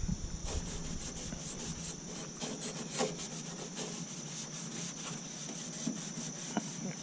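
Rhythmic hand sanding on a school bus body dulls the paint, with repeated short rasping strokes, fairly quiet and close, and a steady high tone running underneath.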